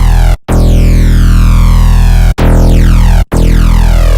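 Thick buzzing synth bass from a Harmor phaser-style patch with three unison voices and phase randomness turned fully down, sustained loud tones with sweeping phaser streaks, cut by three brief silent gaps.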